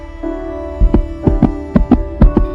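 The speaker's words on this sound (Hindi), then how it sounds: "शिशुपाल जैसे ही दरबार में पहुंचे, उनका कलेजा जोर से धड़कने लगा।" A heartbeat sound effect in a Hindi storytelling piece, with low thumping beats in steady pairs over a sustained musical drone, close and prominent, with about five or six beats building after a quieter opening.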